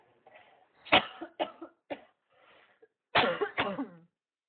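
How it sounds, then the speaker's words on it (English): A series of harsh coughs, close to the microphone, come in two bursts separated by a short pause, with no talking. "I'm just going to cough for a sec."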